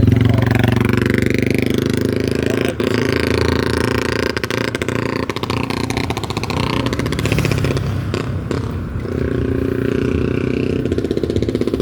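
Engine noise fills a road near a market, a loud, continuous rumbling drone with shifting revs and some rattling, close and steady for the whole stretch.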